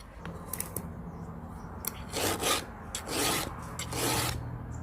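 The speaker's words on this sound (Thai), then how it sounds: "เวลาดันตะไบไปนะครับก็หมุนมืออย่างนี้นะครับ" A round file rasps against the teeth of a chainsaw chain during sharpening, giving a few light scrapes and then three longer, louder strokes, each one distinct, close up and unvoiced.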